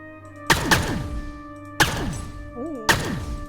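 Three sharp, punchy shots from a heavy pistol in the sci-fi game Pulsar: Lost Colony, spaced about a second apart, each with a ringing tonal tail; a brief warbling electronic tone sits between the second and third.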